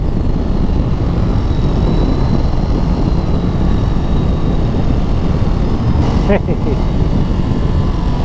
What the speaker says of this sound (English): such a lovely little engine.